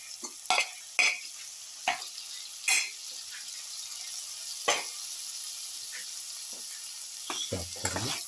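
Tomato pieces frying and stirred in a pan while cooking a garlic bottle gourd potato casserole, with scattered scraping stir strokes over a steady soft sizzle.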